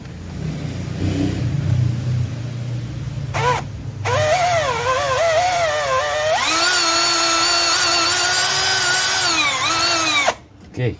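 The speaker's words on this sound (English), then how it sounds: "Let me try to drill that" A power drill drills out a damaged thread, whining loudly, its pitch rising and dipping as it bites, then holding a steady high drone before cutting off abruptly near the end.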